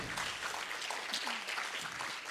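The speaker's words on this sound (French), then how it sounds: "Je pense qu'on peut les applaudir une dernière fois pour leur investissement" Audience at a PechaKucha session applauding the candidates, a brief, fairly soft but continuous patter of many clapping hands with a faint voice briefly underneath.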